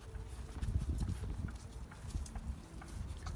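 A donkey carrying a heavy load walks along with a steady, uneven clip-clop of hooves, close and moderately loud over a low rumbling background.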